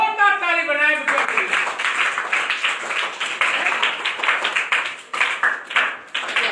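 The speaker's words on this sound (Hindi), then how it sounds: "जोरदार ताली बनाए।" A class of students clapping loudly together, a dense burst of applause that runs steadily for several seconds after a brief voice at the start.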